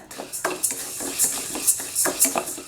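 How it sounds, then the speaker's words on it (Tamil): Moong dal dry-roasting in an empty kadai, with a utensil scraping and tapping the metal in several short, uneven strokes, close and moderately loud. "பாசிப்பருப்பு லேசாக செவந்து வர அளவுக்கு வெறும் கடாயில் வறுத்துக்கலாங்க"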